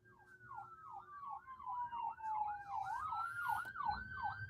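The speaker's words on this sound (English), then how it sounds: "Those ambulances, man." An ambulance siren wails in a fast repeating up-and-down yelp, moderately distant and steady, over low traffic rumble.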